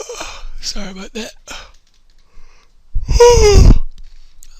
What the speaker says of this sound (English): sorry for the yawn.